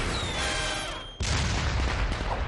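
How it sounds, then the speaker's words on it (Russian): Loud cartoon fireworks bangs in an animated scene: a dense broadband burst that drops briefly around the one-second mark, then a fresh heavy blast that sustains to the end. "Он испугался салюта?"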